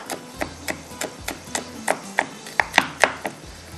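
Garlic, ginger and green chillies being crushed coarsely for yakhni pulao: a steady series of about a dozen sharp knocks and pounding taps, close and clear, growing slightly louder and crisper toward the end, with no talking.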